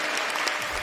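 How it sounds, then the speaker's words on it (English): A brief burst of applause from a small group fills the moment without pause, close and fairly loud, with no voices over it. "Can we have the round of applause for you?"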